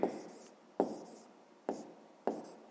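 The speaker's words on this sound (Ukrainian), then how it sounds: "Пишемо відповідь." A pen scratches on paper as a maths answer is written out, in four short separate strokes spaced under a second apart, each starting with a sharp tap and trailing off. Close and quiet, with no talking.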